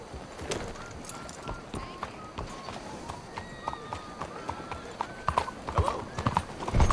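A horse gallops in the video game Red Dead Redemption 2, its hooves beating a quick, steady run of close clip-clops that grows louder toward the end.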